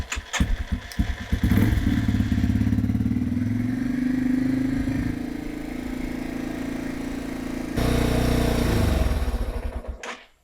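Starter motor of a Yamaha TTR230 motorbike cranking with the relay terminals shorted, a loud close whirring churn that starts abruptly, sags, surges again, then cuts off.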